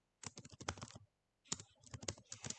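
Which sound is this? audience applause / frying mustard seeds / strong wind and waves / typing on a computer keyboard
typing on a computer keyboard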